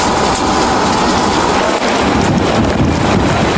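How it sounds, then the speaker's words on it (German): Heavy rain pours during a New York City thunderstorm: a loud, dense, steady roar of drops with wind buffeting the microphone and no voices. "Es regnet."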